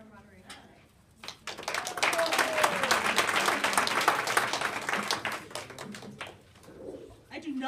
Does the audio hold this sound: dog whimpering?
no